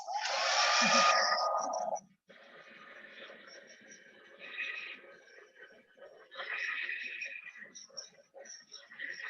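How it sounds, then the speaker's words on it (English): A hair dryer roars loudly and close for about two seconds, then cuts off. Quiet, soft talking follows. "I'm just going to use my dryer just for a second."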